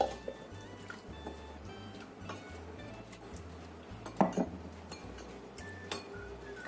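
Utensil stirring an eggplant dish in a pan, soft clinks and scrapes against the metal at irregular intervals, close and fairly quiet over a low background hum.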